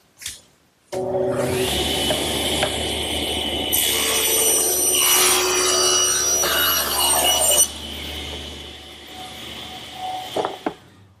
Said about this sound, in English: And to cut them, I'll just use my stationary saw.